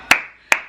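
Two sharp hand claps, spaced about half a second apart, each a crisp loud snap with a short ringing tail, with no voices.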